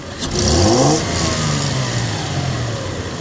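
A Toyota Tacoma 3.4 engine with a restricted, lean-running condition revs up sharply then drops back, the pitch sweeping up and falling to a steady, slightly strained drone, close by.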